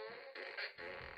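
A fart sound effect inserted into political satire, a buzzy flatulent blare in two or three loud bursts with no speech over it.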